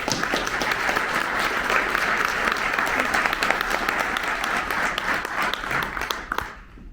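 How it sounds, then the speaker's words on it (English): Conference audience applauding at a legal industry event, a dense steady wash of many hands clapping that holds strong for about six seconds before tapering off at the end. "Let's give them a huge round of applause."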